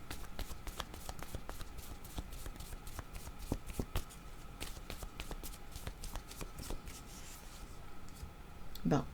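Tarot cards shuffled and drawn for a reading, giving a long run of quick, soft flicking riffles, steady and close but faint, with a brief rustle near the end.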